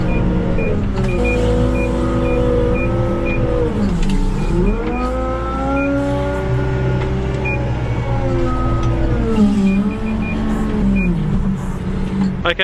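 A telehandler loads muck in a wet, boggy field, its engine droning loudly and steadily with rising and falling revs as it works, and a repeating short beep chirps over it.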